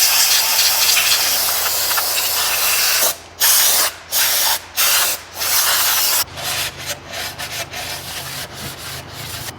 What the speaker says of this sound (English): Now here on the back I will wash the parking brake mechanism.